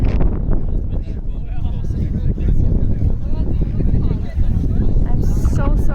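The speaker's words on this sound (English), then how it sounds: "It's relatively windy today" Strong wind buffets a microphone outdoors at a windy hoop game. The roar is loud and steady for the whole clip, with gusting low rumble and no break.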